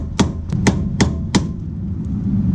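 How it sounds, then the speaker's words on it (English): Metal-on-metal tapping as a piece of scrap steel drives a suspension bushing out during a Mazda RX-7 rear five-lug swap: five sharp, close hammer strikes in an uneven rhythm over a low workshop rumble, with no talking. "I can grab my little piece of scrap steel, get it in there, and see if I can tap it the rest of the way out"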